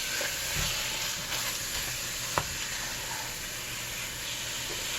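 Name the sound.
ground turkey frying in a pan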